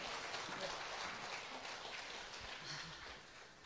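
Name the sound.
audience applause welcoming a performer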